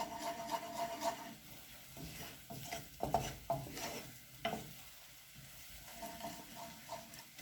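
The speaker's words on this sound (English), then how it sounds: "So you just try and be patient and always stir." Spoon stirring pumpkin risotto with onion in a pan, a soft repeated scraping and rubbing against the pan bottom over a faint background sizzle, fairly quiet and close.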